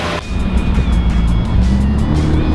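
A Jaguar F-Type accelerating onto a multi-lane highway, its engine a loud, sustained growl heard from inside the car, with a rising tone as it pulls away.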